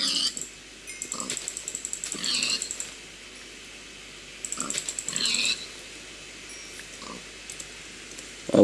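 Pig grunts from the video game Minecraft: a few short, game-style oinks in two brief bursts over a steady background hum, with no talking.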